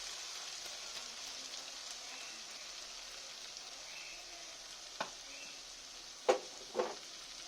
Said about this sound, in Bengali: একটু ভালো করে আমি কষে নেব মশলার সাথে।